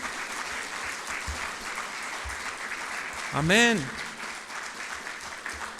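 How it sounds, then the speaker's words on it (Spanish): A church congregation claps in a brief swell of applause as a preacher finishes, the burst building and fading within a second under a spoken word and a sung or tonal voice. "Dale una ofrenda de palmas a su palabra"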